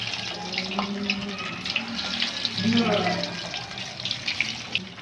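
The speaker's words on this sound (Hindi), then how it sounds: "आप इसे डालते जाएं और आग हल्की रखें और इसको 10 से 12 मिनट आप फ्राई करें" Fish nuggets frying in hot oil over low heat, a steady close hiss and crackle running throughout, with a voice talking over it.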